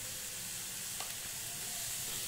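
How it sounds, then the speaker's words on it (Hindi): Mixed vegetables with black pepper, red chilli powder and salt for veg momos frying in a pan, a steady, even sizzle and hiss throughout with one faint stir. "सभी सब्जियों को हम फिर से आधे मिनट तक मसाला के साथ अच्छे से भून लेंगे।"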